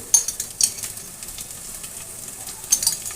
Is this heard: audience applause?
no